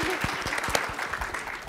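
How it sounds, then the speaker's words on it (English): A conference audience at a game user-experience summit claps steadily, a brief burst of applause with no talking. "Round of applause for Kristen."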